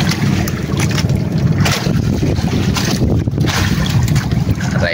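Motors of many fishing boats drone continuously nearby at sea while strong wind buffets the microphone in bursts.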